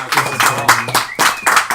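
A small group of people claps right after a vote is announced, a loose, fairly loud patter of hand claps in uneven bursts, up close indoors, with a bit of voice mixed in.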